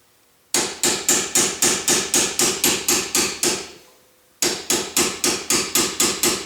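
A hammer taps out the pins on a Brembo brake caliper of an S550 Mustang Performance Package: two runs of steady, evenly spaced metallic taps, about three per second, close and clear, with a brief pause between runs.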